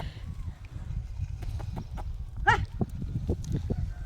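Bullocks pull a wooden plough through a field, with hooves thudding and clopping at an irregular pace, a faint jingle of harness and a brief animal or human call midway, all outdoors and close.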